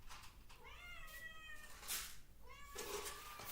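Hungry house cat meowing to be fed, two drawn-out, rising meows close by, with faint room noise between them.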